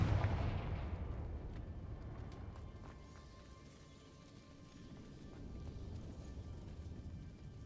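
In the Hogwarts Legacy video game, a Confringo fire spell lands as a booming blast with a deep rumble that fades over a few seconds, followed by a low, quieter ambience.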